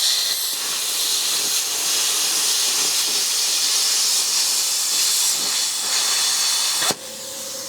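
Compressed air flowing through a plasma cutter torch to cool the tip after cutting, a loud steady broadband hiss that cuts off abruptly near the end, leaving a quieter background hum.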